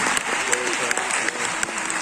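An audience applauding at a Cannes Film Festival screening, a short burst of close, full clapping with some crowd voices underneath.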